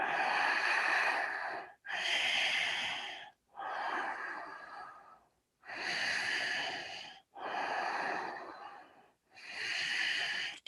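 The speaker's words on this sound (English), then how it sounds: "Use the Ujjayi breathing." Slow, deep Ujjayi breathing during a yoga session, six long hissing breaths in and out with brief pauses between, close and steady with no talking.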